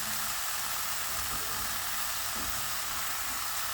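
Garlic frying in hot oil gives a steady, dense sizzle, close and continuous, with no voices over it.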